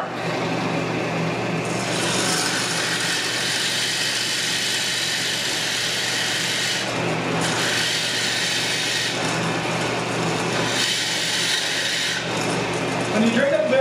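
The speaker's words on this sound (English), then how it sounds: "And we're going to drill to the black mark." A power drill bores a hole for the CO2 cartridge in a wooden CO2 car body, giving a loud, steady whirring grind close by. It drops out briefly around the middle and again later as the bit is raised.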